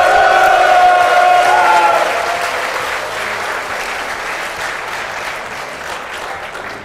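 An esports crowd at a StarCraft tournament applauds and cheers loudly for the Team Liquid player, a dense wash of clapping with whoops that slowly fades over several seconds.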